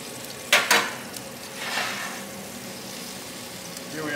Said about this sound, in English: Here we are back to searing